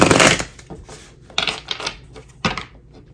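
Tarot cards from an Ostara Tarot deck are shuffled by hand in a few close, crisp bursts of riffling and slapping, the first one long and the others short, with quiet pauses between them.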